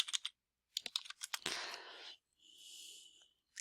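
Someone types a search term on a computer keyboard in a student research database: close, fairly quiet key clicks in short quick bursts, then a denser run of taps before a fainter hiss.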